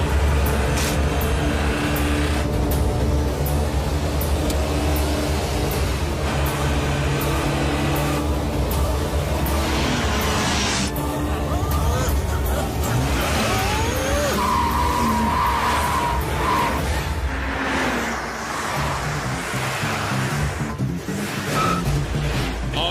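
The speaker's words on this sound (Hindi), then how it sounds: "इस तरह ओवरटेक करते हुए वो गाड़ियों से आगे निकले जा रहे हैं।" Cartoon race cars in a Motu Patlu car-racing movie, including a golden car, roar past one another while overtaking, with repeated loud tire skids and squeals over continuous engine noise.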